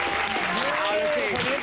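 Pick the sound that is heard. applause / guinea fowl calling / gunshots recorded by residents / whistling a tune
applause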